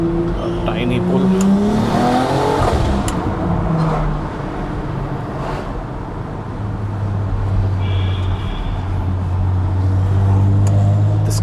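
A BMW X3M SUV fitted with an Active Autowerke exhaust pulls hard with loud, close engine roar and rising revs, the exhaust note swelling again near the end while someone talks over it.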